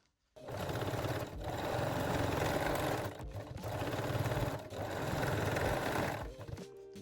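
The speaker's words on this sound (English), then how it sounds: "And sew them in a place with small zigzag." A sewing machine stitches a small zigzag on a bralette in three long, loud, steady runs of rapid mechanical chatter, each separated by a short pause, heard close up with no talking.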